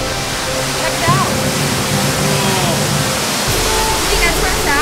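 Waterfall in a jungle beside a cave opening, a steady broadband rush of falling water that continues throughout, fairly loud and close, with a faint voice briefly audible beneath it.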